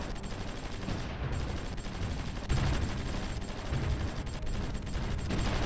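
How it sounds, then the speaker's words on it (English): Steady battlefield gunfire in the strategy game Supreme Ruler Ultimate, a continuous loud wash of overlapping rifle and machine-gun bursts with heavier thuds mixed in, with no pause throughout. "they are firing over there at least"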